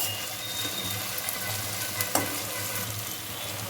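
Ginger garlic paste sizzles steadily in hot oil for a curry, a continuous crackling fry with one brief louder clink midway, close and alone without voices.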